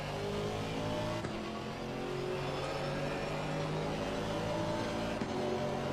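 A race car in Assetto Corsa Competizione drones past close by, steady engine roar holding over the player's own engine with no break, loud and continuous throughout.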